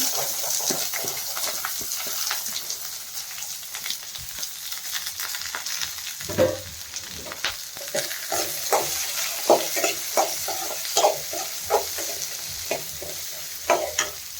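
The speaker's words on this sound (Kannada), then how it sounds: "ಮೆಣಸಿನ್ಕಾಯಿ ಸ್ವಲ್ಪ ಫ್ರೈ ಆದಮೇಲೆ ಕಟ್ ಮಾಡಿರೋ ಈರುಳ್ಳಿ ಹಾಕ್ಕೋತಾ ಇದ್ದೀನಿ" Sliced onion frying with Byadgi chillies in a pan, a steady close sizzle broken by repeated stirring scrapes and clatters, louder bursts recurring every second or so in the second half.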